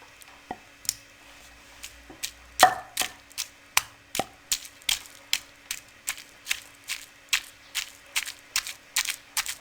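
Potatoes and green chilies are pounded in a kundi mortar with a wooden pestle, giving a long run of steady, rhythmic thuds and squishy knocks, close and clear with no talking.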